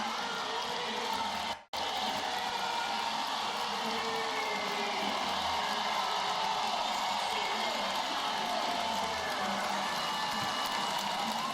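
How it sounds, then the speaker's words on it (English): A home crowd inside Carver arena roars steadily for a women's college basketball game between Michigan and Iowa, a sustained wash of cheering broken by one brief dropout. "Let them feel the love from this crowd inside of Carver."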